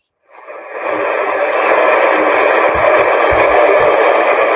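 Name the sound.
shortwave radio broadcast of Radio New Zealand International with noise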